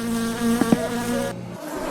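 A mosquito in the video game My Summer Car buzzes close by, a steady, loud, nasal whine that wavers briefly in pitch before cutting off near the end.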